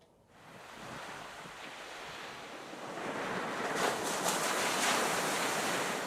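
Sea waves roar on a coast, a continuous broad surf wash with wind noise that swells louder toward the end, heard alone without speech.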